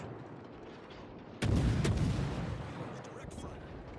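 Heavy naval gunfire in the World of Warships game during a close match with a Fletcher destroyer: a sudden loud, booming broadside lands about a third of the way in, then rumbles and slowly decays with a few sharper cracks.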